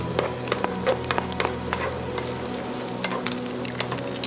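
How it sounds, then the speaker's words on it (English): Bacon crisps in a pan over an outdoor camp stove in the wilderness during a bikepacking trip in Spain, a close, steady crackling sizzle with small pops throughout and no voices. "Nothing better than bacon frying out in the wilderness."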